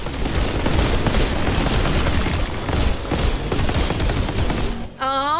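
An automated turret in the Outriders video game fires continuously in a dense, loud rattle of shots with impacts over several seconds, then cuts off into a brief tonal game sound at the end.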